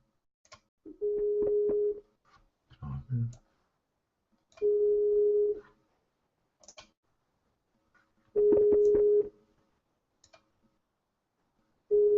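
Telephone busy tone after a call is hung up, a steady beep repeating in long evenly spaced pulses with brief clicks and rustles between them, close and clear.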